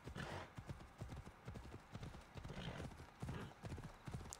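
Steady, rhythmic clip-clop of horse hooves on a hard surface in the video game Assassin's Creed Odyssey, repeating at a walking pace, fairly faint and distant.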